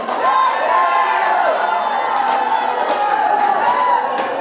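A crowd at a lumberjack show on Vancouver Island cheers and whoops loudly and steadily, many voices blending into a continuous roar with scattered shouts.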